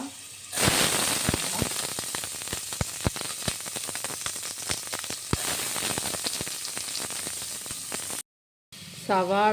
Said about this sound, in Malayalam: അല്പം ഉപ്പ് ചേർത്ത് വഴറ്റുക